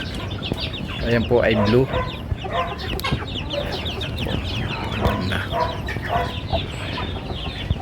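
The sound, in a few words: Brahma chicken hen clucking with her chicks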